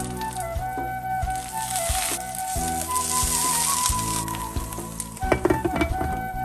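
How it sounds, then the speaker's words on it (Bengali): Leaf-wrapped hilsa fish parcels in pumpkin leaves fry in hot mustard oil in a wok over medium flame, giving a loud, steady sizzle with a few sharper crackles and pan knocks near the end. No one speaks. "একটা একটা করে পাতায় মোড়া ইলিশ মাছ কড়াইয়ের মধ্যে আমি রেখে দিচ্ছি"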